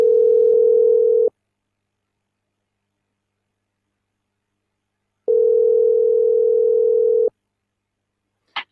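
A telephone dial tone sounds twice while calling back, a steady hum that lasts about a second and then about two seconds with a silent gap between, followed by a brief faint click.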